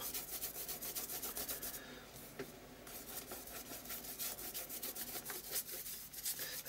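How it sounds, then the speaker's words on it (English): A brush works texture paste into the nooks of an art journal page, a quiet, continuous scratchy rubbing with rapid repeated strokes, close and faint, with no voices. "Just brushing it into all the little kind of like nooks and crannies where the texture paste has gone over the top."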